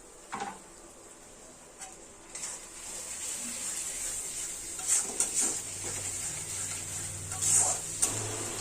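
Marinated mutton drops into a hot pan for a potato mutton curry, bringing a steady sizzle with brief louder bursts, then a continuous frying hiss alongside a low hum.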